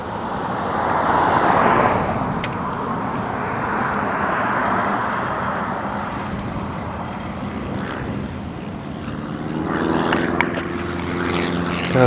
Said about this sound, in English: See, they got that stealthy helicopter.